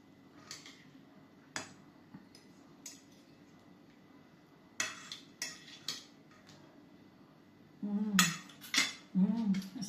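Cutlery and dishes clink in scattered taps during a meal of re-fried inasal chicken, with sharper clatters growing louder and denser near the end, close by.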